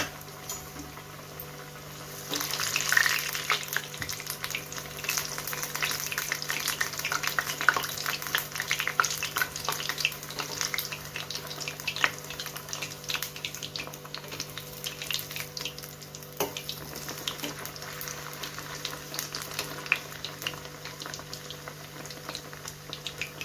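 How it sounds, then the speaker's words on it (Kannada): Coated food frying in hot oil in a home kitchen for a rasam side dish, a steady bubbling sizzle that stays even and close throughout, with no one talking. "ಈ ರೀತಿ ಹಚ್ಚಿಬಿಟ್ಟು ಎಣ್ಣೆನಲ್ಲಿ ಫ್ರೈ ಮಾಡ್ಕೊಳ್ಳೋಣ"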